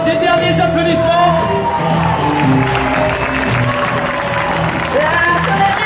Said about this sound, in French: on les laisse se remettre face à vous pour des derniers applaudissements